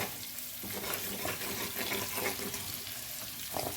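Masala sputters and hisses in hot oil for a fish curry, a steady close sizzle with faint stirring scrapes throughout.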